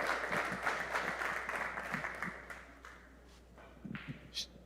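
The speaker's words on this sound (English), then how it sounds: "Take your applause. Give it up for her." Audience applause for a winner at a 2022 junior international championship finals, a moderate, somewhat distant spread of clapping that gradually tapers off, with a few louder individual claps near the end.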